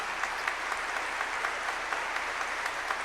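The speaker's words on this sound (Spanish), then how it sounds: "Le damos un fuerte aplauso a Monseñor." Congregation applauding a Monsignor inside a church during Mass: steady, fairly soft clapping with a reverberant room wash and no talk over it.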